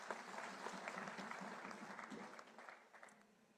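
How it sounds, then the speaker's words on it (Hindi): Audience at an Indian political rally claps loudly and steadily, a dense burst of applause that fades slightly toward the end. "एक बार उनके लिए जोरदार ताली आप बजाइए प्लीज"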